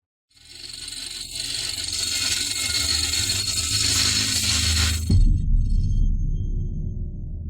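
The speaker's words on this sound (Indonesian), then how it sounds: "Berhenti mengebor, suaranya terlalu keras." A drill grinding into special-grade glass, a harsh, loud, high-pitched scraping whine that runs steadily for several seconds, then cuts off abruptly and leaves a lower rumbling noise.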